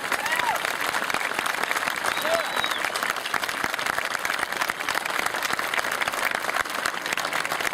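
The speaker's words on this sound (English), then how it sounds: "give a warm round of applause to our newest class 2017" Sustained applause from a large graduation audience honoring a new maritime college class, dense steady clapping throughout with a faint voice rising briefly above it.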